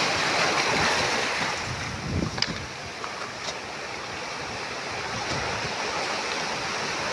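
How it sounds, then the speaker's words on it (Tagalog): Ocean waves wash steadily along a shore where someone is fishing, a broad continuous surf rush with a slightly stronger swell near the start, mixed with light wind across the microphone. "Ayun na, may alon."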